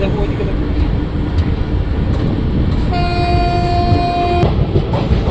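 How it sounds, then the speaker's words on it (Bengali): A train at Joychandi Pahar railway station rumbles loudly and steadily, with a sustained horn-like tone sounding for a second or so partway through. "এই হলো জয়চণ্ডী পাহাড় রেলওয়ে স্টেশন।"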